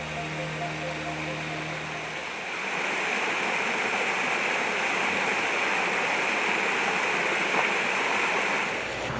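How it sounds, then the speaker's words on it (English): Water pours steadily over a waterfall at Garvan Woodland Gardens, a constant broad rushing wash that fills the scene. At the start it sits under a low background hum before rising to a fuller, even roar. "Waterfalls are something you can enjoy a lot of at Garvan Woodland Gardens."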